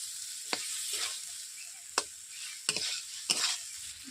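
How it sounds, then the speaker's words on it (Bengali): Fried potato and carrot are stir-sautéed with spices in a pan: a quiet, soft sizzle broken by four or five sharp spatula scrapes at irregular intervals, with no voices. "মশলার সঙ্গে আমি কষিয়ে নিচ্ছি আলু গাজরকে।"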